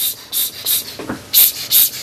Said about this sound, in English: I'm just going to pretty much just spray so it has that little bit of squirted rusty look to it